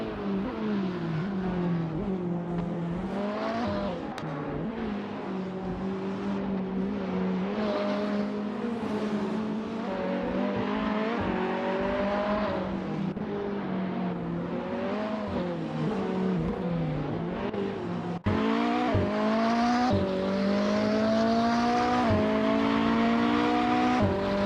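Supercars, including a 2010 Bentley Continental GT, racing on the Seattle circuit in a video game: a continuous loud engine drone that rises and falls in pitch as the cars accelerate and shift gears, with no speech over it.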